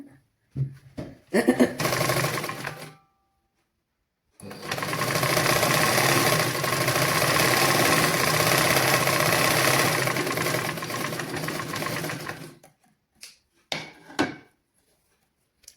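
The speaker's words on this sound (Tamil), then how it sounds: "இனி நாங்கள் வந்து இதை ரெண்டு பீஸாக நாங்கள் வச்சு தைச்சு பார்க்கலாம்." A sewing machine stitches two pieces of fabric in a basic tailoring lesson, starting with a few short mechanical bursts and then running a steady, close, rattling stretch for about eight seconds before stopping, with brief clicks afterward.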